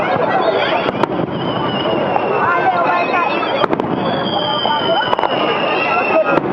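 Fireworks at the Okazaki fireworks festival in Japan, a loud, continuous crackle of bursts and sharp pops with a few whistling streaks, heard from a crowded rooftop with people talking under it.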